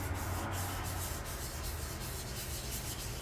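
Continuous rubbing and sanding on the hood of a 1958 Johnson CD-15 outboard motor, done in circular strokes to feather out a divot, steady and close with a constant hiss-like texture.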